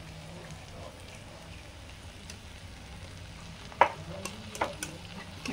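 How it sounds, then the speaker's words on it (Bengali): Small chhana moti balls frying gently in oil, giving a steady low sizzle with a few soft taps and stirring clicks near the end. "সুন্দর ভাজা হচ্ছে হালকা হালকা করে।"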